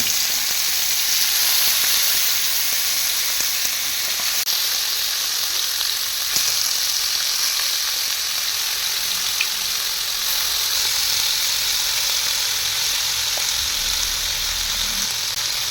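Chicken masala fry sizzling in a pan on a low flame, a continuous, fairly loud hissing fry with occasional faint stirring scrapes and no voices.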